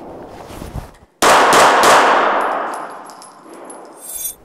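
A carry handgun fires three or four sharp, loud shots in quick succession at a close target on a range, followed by a decaying metallic ring and a few lighter clinks.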